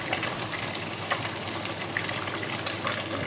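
Fish pieces for a ginger fish curry fry in a pan with a dense, steady sizzle and crackle that carries evenly from start to finish, close and moderately loud, with no voices over it.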